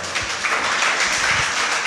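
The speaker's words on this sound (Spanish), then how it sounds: "¿Cuánto da un fuerte aplauso al Señor?" A church congregation breaks into loud applause during a sermon, with many hands clapping at once in a dense, continuous wash of sound that holds at even strength throughout.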